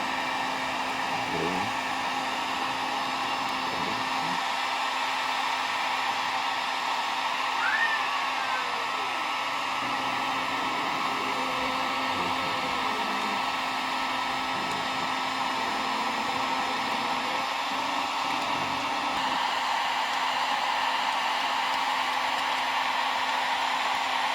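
A heat gun blows hot air onto a circuit board to loosen parts for salvage, a continuous loud, even airy roar holding steady throughout with no breaks.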